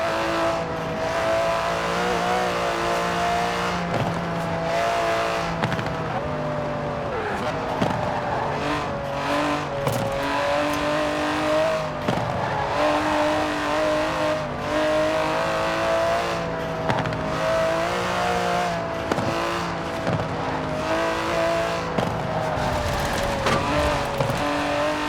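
An Aston Martin DB11 in Forza Horizon 4 drives steadily, its engine drone rising and falling through gear changes with brief shifts and revs, close and continuous without talk.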